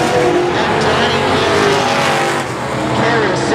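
Race car engine roaring loud and close as it laps a dirt track during a professional heat, with tire noise throughout and a race commentator talking over it.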